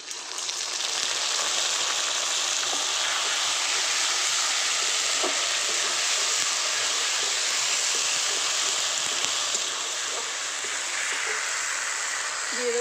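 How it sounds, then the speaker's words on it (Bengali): Ginger, garlic and green chili paste with whole cumin sizzles steadily in hot oil with fried onions, a continuous loud hissing fry close by, with occasional faint stirring clicks. "এবার কিছু বাটা মশলা দিয়ে দেব। এখানে আছে আদা, রসুন, কাঁচা লঙ্কা একসঙ্গে আমি বেটে রেখেছি,"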